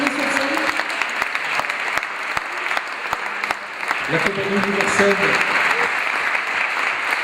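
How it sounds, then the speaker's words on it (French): A theatre audience claps steadily for actors coming on stage at a food-themed performance event, dense continuous applause with someone briefly speaking over it. "j'ai juste envie qu'on applaudisse encore une fois les comédiens qui vont arriver sur scène."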